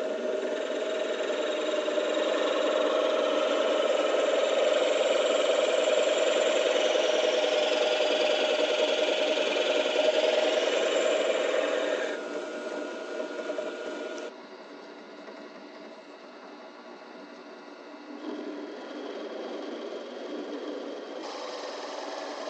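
A drill fitted with a paddle bit bores out leaf spring bushings for a 1966 Mustang. The motor whirs loudly and steadily for about twelve seconds, then continues at a lower, uneven level as the load changes.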